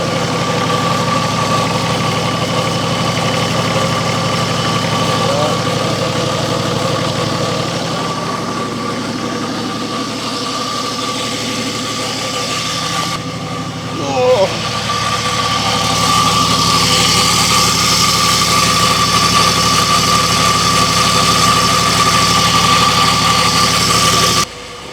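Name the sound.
old Nissan Patrol GQ engine running with awful gearbox noise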